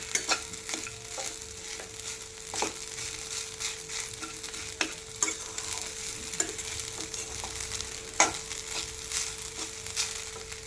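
Sabudana khichdi being stirred as it fries in a pan, with a steady soft sizzle and irregular scraping and stirring strokes close by, no voices.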